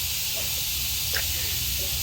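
Steam hisses steadily from a pressure cooker between whistles, a continuous close-up rush of noise with no break across the short stretch.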